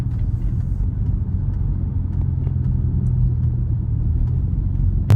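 A straight-piped Chrysler 300 Hemi while driving, a deep, steady exhaust rumble droning from inside the car at a constant cruise, with a sudden louder burst right at the end.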